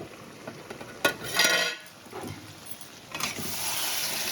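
Fish-oil chorchori with pointed gourd and eggplant is stirred in a cooking pot: a few close metallic scrapes and clinks over a faint, steady sizzle.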